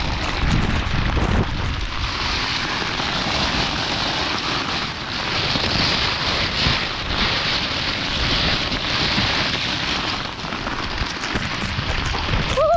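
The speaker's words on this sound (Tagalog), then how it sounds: "Kalakas na naman po ng ulan din sa amin na ba." Heavy rain pouring down on a cucumber farm in the Philippines, a loud continuous broadband roar with gusty surges, close and steady throughout with no talking.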